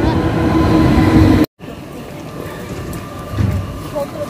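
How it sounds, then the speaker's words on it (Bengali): Bhagirathi Express 13104 pulls into platform 2 at a railway station, a loud steady rumble of the train and station noise filling the clip with a brief dropout in the middle, then continuing rolling sound. "Bhagirathi express 13104 is arriving in platform 2"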